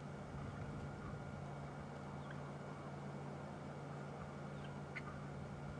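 Soft, brief bird contact calls sound now and then on a safari drive at sunset, faint against a steady low background hum.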